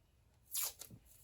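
A strip of red craft tape is pulled off with a short, close ripping burst followed by a smaller tearing snap, in an otherwise quiet room.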